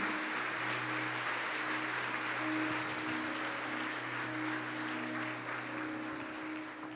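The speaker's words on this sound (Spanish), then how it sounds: "Este aplauso de felicitación." Steady applause from a church congregation, a continuous even patter of many hands clapping at moderate distance, filling the whole stretch at a fairly soft level.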